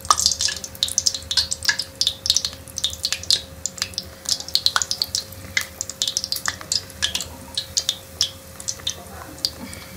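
Eggplant pakora coated in gram flour batter frying in hot oil, steady crackling pops and spits of varying loudness over a faint background hum, no talk heard.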